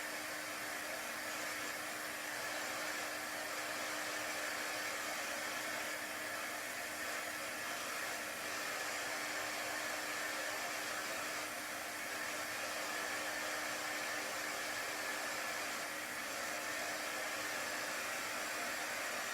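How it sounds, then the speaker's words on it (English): A hair dryer blows steadily to dry chalk paste used for chalk transfer crafting. The airflow whir is loud, close and unbroken for the whole stretch, with no talking over it. "I'm going to dry it a little bit with my dryer."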